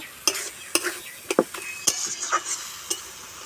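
A banana flower chop filling is stirred in a frying pan: a run of sharp scraping knocks from a spatula, roughly one every half second, over a soft, quiet sizzle.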